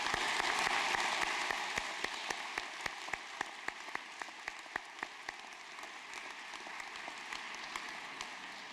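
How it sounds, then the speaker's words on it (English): Audience in a hall applauding graduating mathematics and statistics candidates at a university convocation, a steady wash of many hands clapping that fades to scattered individual claps, fairly soft and distant. "Let's give these candidates a round of applause"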